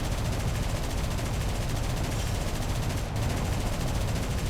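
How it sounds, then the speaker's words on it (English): Heavy machine guns and cannons fire in War Thunder, a dense, continuous rattling barrage, loud and close with no pauses. "we're gonna see if we can't fire some heavy machine guns and cannons on these guys"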